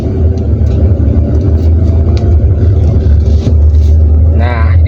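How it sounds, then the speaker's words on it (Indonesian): A car's engine rumbles steadily and loud, idling with a low drone while a learner driver releases the clutch and presses the accelerator, shifting into second gear; a voice talks over the engine noise throughout. "Lalu lepaskan kopling dan gas."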